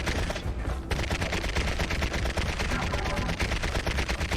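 Bouncy bullets fire in the video game Serious Sam: The Next Encounter as a dense, loud, unbroken rattle of rapid gunfire with barely a pause.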